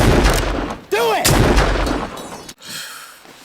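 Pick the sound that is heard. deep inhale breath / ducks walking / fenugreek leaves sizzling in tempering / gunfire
gunfire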